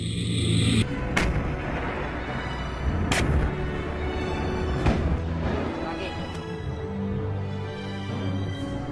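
Artillery guns fire during officer training in Singapore, with several sharp booms spread through the clip over continuous background rumble and voices.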